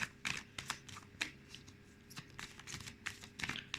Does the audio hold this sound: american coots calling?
no